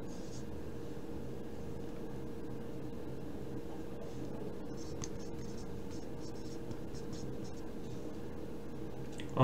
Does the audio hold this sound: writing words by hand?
yes